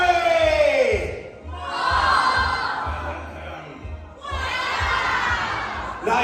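A carnival sideshow crowd at an amusement park shouts and screams loudly in three long, swelling bursts separated by brief lulls, many voices yelling together.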